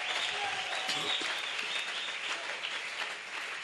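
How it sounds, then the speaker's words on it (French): A church congregation applauds in a sustained, fairly distant wash of clapping that stays steady and slightly fades toward the end. "Acclamons pour le roi des rois."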